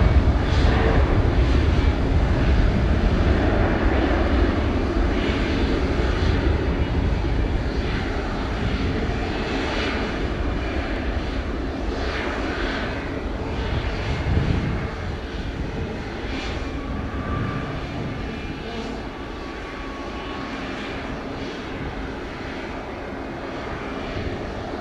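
An airplane lands at Montego Bay airport in Jamaica, its engine roar loud and steady at first, then slowly fading and easing over about twenty-five seconds with no talk.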